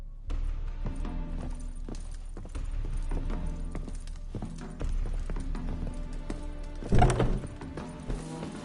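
In the video game The Witcher 3: Wild Hunt, a horse's hooves gallop in a steady, rolling clip-clop rhythm that runs close and continuous, with a brief louder thump near the end and no talking.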